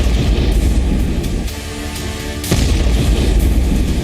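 A 10,000 kg MOAB bomb blast in Afghanistan hits with a deep, heavy boom, rolling rumble that dips, then a second sharp burst of roaring low thunder carries on loudly.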